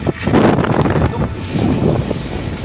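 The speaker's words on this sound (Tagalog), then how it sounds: "Lakas ng hangin dito mga par" Strong wind buffets the microphone with loud, rough gusts, a continuous blustery roar that swells and eases without pause.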